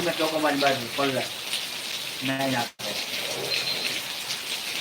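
Heavy rain with strong wind falls steadily in the village of Khadvavdi. Someone talks over it in two short stretches, and the sound cuts out briefly midway.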